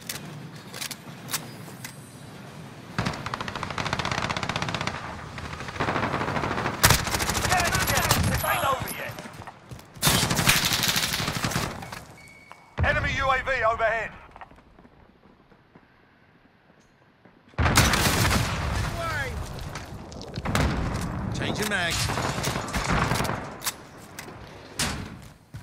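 Bursts of rapid video game gunfire during a tactical house-clearing match, loud dense volleys separated by thuds and brief lulls, with a quieter gap midway before heavy shooting resumes.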